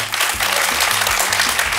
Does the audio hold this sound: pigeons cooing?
no